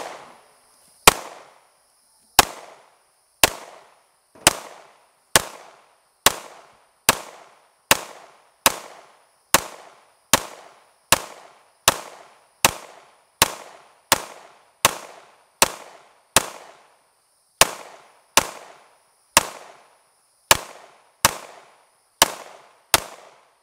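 A PSA Dagger 9mm pistol fires about two dozen sharp, loud shots at a slow, steady pace roughly one second apart, each crack followed by a short echo tail.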